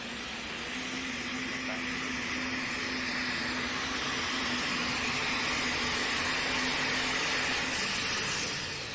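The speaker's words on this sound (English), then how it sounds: "Good to see that tractor living through a couple passes" A pulling tractor at a tractor pull making its run, a loud, steady, broadband roar with a droning low tone, sustained for several seconds and tapering slightly at the end.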